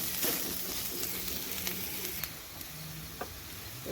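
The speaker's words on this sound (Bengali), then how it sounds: "দেখুন এবার এর মধ্যে দেবো কুচনো কাঁচা লঙ্কা, দিয়ে আবার একটু ভেজে নেব।" Chopped green chillies with garlic frying in oil in a pan, giving a quiet steady sizzle with a few light clicks of stirring. No one speaks.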